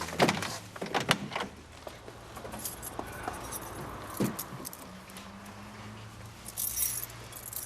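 A bunch of keys jangling with bright metallic rattles, loudest at the start and then sporadic, followed by soft thunks and a low hum in the background.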